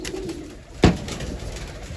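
Loft pigeons coo in a low murmur, broken by one sharp loud knock or clatter partway through, with no voices.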